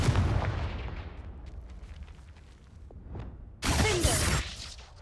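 Blasting curse spell from the Hogwarts Legacy video game, a heavy booming explosion that fades out, followed by a loud crackling burst near the end.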